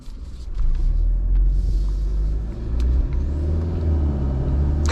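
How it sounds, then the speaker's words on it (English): Low, steady engine and road rumble from a 2024 Mercedes CLE 300 Cabriolet with a 2-liter turbo four while driving, with faint turbo spooling surges rising and falling over the drone. "little 2-liter turbo is the only thing I hear spooling up every now and again"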